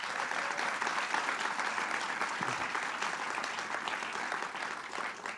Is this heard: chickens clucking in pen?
no